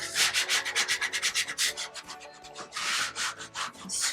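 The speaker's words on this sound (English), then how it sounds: "I'm going to use my scraper tool again." Scraper tool rubbed firmly over vinyl decal and transfer tape on a Valentine sign, a close series of quick scratchy strokes, regular at first, then longer sweeps, with no talk.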